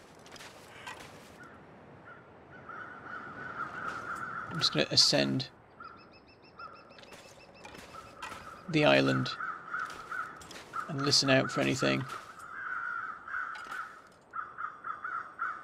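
Crows cawing in The Long Dark, a group of harsh calls in bursts around five, nine and eleven seconds, set against a steady wind-like hum while someone talks over much of it.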